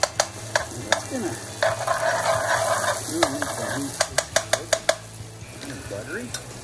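Vegetables for a Philly cheese steak sizzle in a teaspoon of ghee, a steady frying hiss under repeated sharp clinks and scrapes of a utensil stirring in the pan, loud and close.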